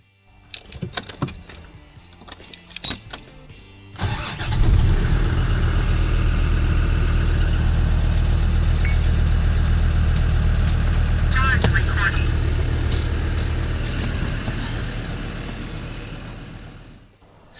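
A few clicks and clatter, then a Land Rover Defender TD5 diesel engine starts after a fuel pressure regulator change and settles into a steady low idle rumble that continues to the end.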